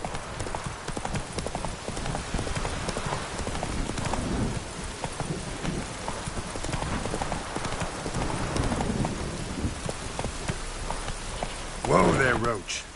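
Roach the horse in The Witcher 3 clip-clops at a steady walking rhythm through rain, with a faint rumble of thunder, and a brief louder burst near the end.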